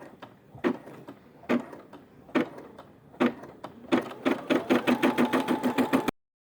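A Brother SE600 embroidery sewing machine stitching an in-the-hoop quilt block, starting with spaced, loud mechanical thumps and building into a fast, steady run of close, rhythmic needle strokes that stop abruptly.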